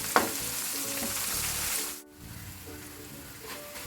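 Jackfruit fibre chips fry in hot oil while being stirred, a steady broadband sizzle with scraping stir strokes that drops away briefly midway, then resumes at a similar level.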